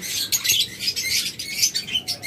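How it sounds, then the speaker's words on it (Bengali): Many lovebirds chirp together in a crowded breeding setup, a dense, continuous flurry of high, bright tweets and squeaks in rapid overlapping bursts, close by, with no talking. "হিউজ পরিমাণ লাভবার্ড রয়েছে।"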